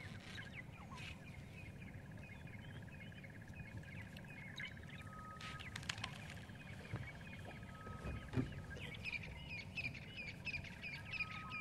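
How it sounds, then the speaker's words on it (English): A magpie shrike calls in the bush on a morning game drive, faint repeated whistled notes heard at a distance over a low background rumble. "Magpie shrike that you can hear calling as well."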